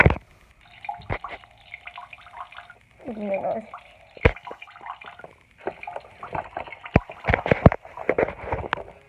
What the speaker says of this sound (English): Time to wash my hands.